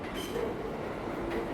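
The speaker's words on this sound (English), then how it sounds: "this sample at the front of it of the Brooklyn-bound Q train heading into Manhattan" Brooklyn-bound Q subway train heading into Manhattan: a steady, fairly faint rumble of rolling cars with faint squeal tones, continuous with no voices.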